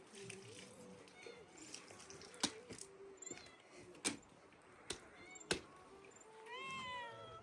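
Cats meow several times in a quiet rural home, faint rising cries scattered across the scene and a clearer one near the end, mixed with sharp taps and clicks and soft talking nearby.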